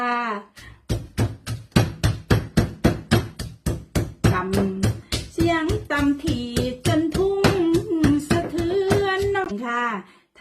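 Ingredients including lemongrass and small wild apples are pounded in a mortar, a long run of sharp, evenly spaced thuds at a brisk rhythm, close by, with someone talking over the later strikes.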